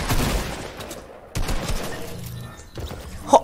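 Gunfire bursts from a Fortnite duos match: a rapid fusillade up front, then more scattered shots and a loud crack at the end, close and loud.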